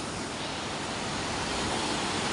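A small stream flowing beside the landslide-hit Vilangad river, a dense steady rushing wash of water filling the whole moment, close and unbroken, with no voices.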